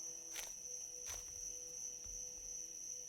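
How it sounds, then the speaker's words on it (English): Insects buzz in a steady high drone with a couple of louder rasping bursts, faint and continuous, set in a Pacific island survival game; no talk over it. "I'm actually fighting to hear myself over the cicadas right now"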